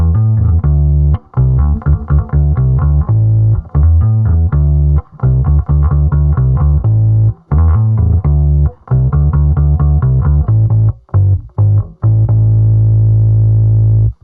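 A Sipe OH16 bass played through a Fairfield Circuitry Roger That pedal into a Manley Force delivers a loud, close sequence of plucked, sustained notes in a choppy rhythm with short gaps, deep and harmonically rich, with no voices.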